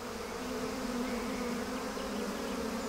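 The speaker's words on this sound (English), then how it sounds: "the honey collector descends into swarms of angry bees" A swarm of angry honeybees buzzes around a hive while a honey collector works among them, a dense, steady drone that is loud and close throughout, with no voices.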